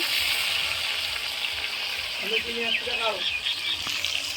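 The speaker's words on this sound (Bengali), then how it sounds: "তেলে তেলটা গরম হলো পেঁয়াজ টমেটো সব দিয়ে দিল" Onion and tomato fry in hot oil over a wood-fired stove, making a constant close crackling sizzle throughout, with a voice speaking briefly over it.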